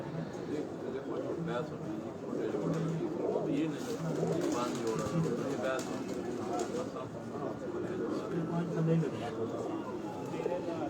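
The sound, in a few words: pigeons cooing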